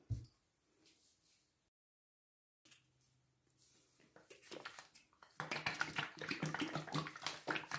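A 500 ml bottle of homemade acrylic pouring medium, Floetrol mixed with glue and about ten percent water, is shaken hard, giving loud, rapid, continuous liquid sloshing and rattling near the end after quiet handling noises and a brief silence.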